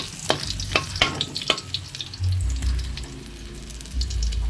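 Garlic sautés in a pan with a steady close sizzle, punctuated early on by several sharp stirring clicks and scrapes before the frying settles into a continuous hiss.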